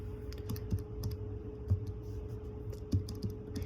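Quick, light keystrokes tapped in short bursts on a keyboard, entering a math expression into a calculator, heard close and clear with brief pauses between clusters.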